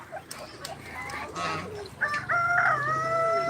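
A rooster, freshly let out of its enclosure, crows loudly up close in one long drawn-out call after a few scattered clucks and brief noises.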